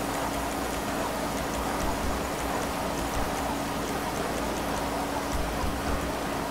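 Rain falls in the video game GTA 5, a steady dense hiss of droplets with faint ticking patters, continuous and even throughout with no voices.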